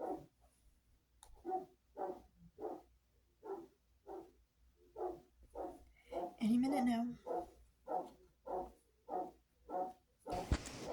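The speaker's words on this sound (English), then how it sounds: "I'll come back when the dog stops barking." A dog barks in a steady, evenly spaced series of sharp barks close by, with a brief whine in the middle and a person speaking quietly under it.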